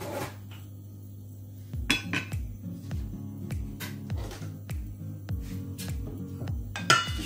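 A sauté pan set on the stove to heat for frying lardons, with a series of metallic clanks, knocks and scrapes of cookware arriving irregularly, fairly close and alone, with a brighter clang near the end.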